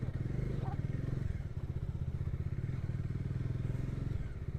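Motorcycle riding a rough hill road toward Madugiri Hills, its engine thumping in a fast steady pulse, close and loud, with a voice talking over it.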